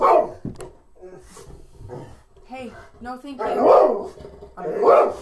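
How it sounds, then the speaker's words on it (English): A dog barks several times, loud and close, in bursts near the start and toward the end, while a person speaks over the barking. "That was my dog."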